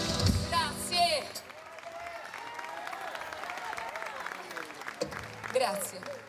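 Audience applause for a singer at an open-air concert in Piazza Manzoni, Jesolo: steady clapping from a crowd that holds for several seconds, with brief voices at the start and end.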